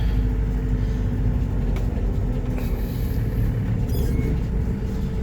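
Steady road and engine drone from inside a 2017 Isuzu Crosswind XL with a manual gearbox at highway speed, a dense low rumble running continuously with no talking.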